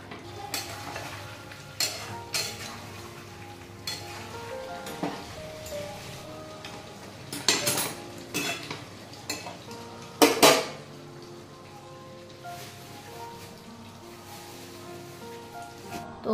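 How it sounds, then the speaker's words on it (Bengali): Goat meat with spices being stirred and fried in a pan, intermittent scraping and clinking of a utensil against the pot over a low sizzle, with a few sharper knocks. "মশলাটার সাথে কষিয়ে নেব।"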